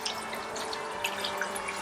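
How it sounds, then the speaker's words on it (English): Aquarium water siphons steadily through a hose into a bucket, a continuous trickling, splashing flow heard up close and alone. "I'm going to go ahead and take the hose again and siphon out a second bucket"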